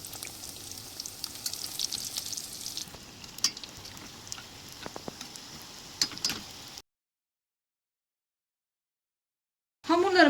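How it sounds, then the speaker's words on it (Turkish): Pişi dough frying in oil in a pan gives a steady soft sizzle with scattered crackles and pops, then cuts to silence before the sizzling returns briefly. "Ve bütün hamurlarımı aynı şekilde kızartıyorum."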